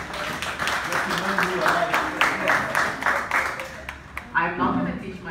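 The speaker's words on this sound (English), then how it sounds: "Another round of applause for Professor Rukuni." Audience applause for Professor Rukuni at an education forum on Zimbabwe and Africa, steady clapping lasting several seconds and fading near the end, with voices mixed in.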